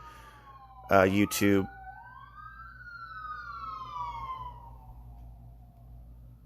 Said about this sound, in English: Sirens brought to you from the River Valley in Ohio, next to the hospital.